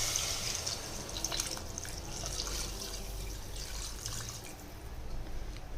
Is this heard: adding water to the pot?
yes